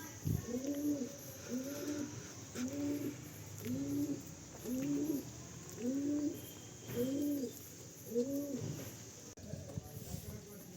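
Pigeons in a loft of wire cages coo in a slow, regular series of soft throaty calls, about eight evenly spaced rounds, close and moderately quiet against a low background hum.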